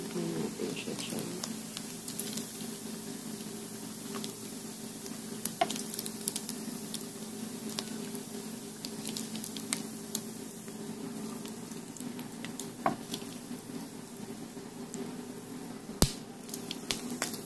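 Hot oil crackling and spitting in a pan while frying breakfast bacon, a constant close sizzle with scattered sharp pops and one loud snap near the end, someone talking now and then over it.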